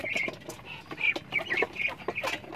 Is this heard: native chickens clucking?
yes